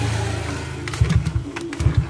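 Honda Beat ESP scooter with an ignition fault being kick-started, a low rumbling idle broken by two bursts of louder chugging from the crank strokes, close by.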